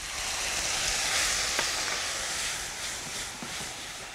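Onions and orange juice sizzle steadily in a frying pan, a constant close hiss with a few faint utensil taps, no voices.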